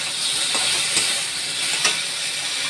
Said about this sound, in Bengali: এর মধ্যে আলুগুলো দিয়েও ভাজবো।